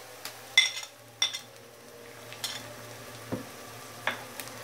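Onion with ginger-garlic paste frying in a pan makes a low, soft sizzle beneath sharp spatula scrapes and metallic clinks that come at irregular intervals.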